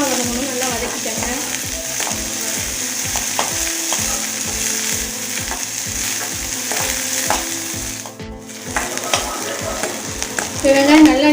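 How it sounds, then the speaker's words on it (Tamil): Small onions sizzle and fry in a pan for mutton kulambu, browning under steady stirring, with a regular scraping rhythm of a spoon against the pan and continuous crackle throughout. "நல்லா வதக்கிட்டு நல்லா இந்த வெங்காயம் பார்த்தீங்கன்னா நல்லா ப்ரௌனாக வதங்கணும்"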